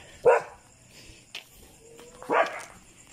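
A dog barks twice, sharp and fairly close, with a pause between, plus a brief fainter yip in the middle against a quiet background.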